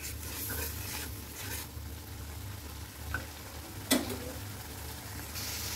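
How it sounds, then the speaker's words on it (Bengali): Turmeric and chili spices are stir-fried in a pan for a tilapia and potato curry. A continuous close sizzle is punctuated by occasional spoon knocks and scrapes, one sharper clack standing out, with no speech. "এখন আমি লাইরা দেবো, দেখো লাইরা ভালো করে আমি কষাই নেব"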